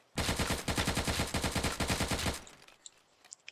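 Rapid automatic AK-47 fire rattles out in the video game Teardown: a loud, sustained burst of evenly spaced shots lasting over two seconds, then a few faint scattered clicks and echoes.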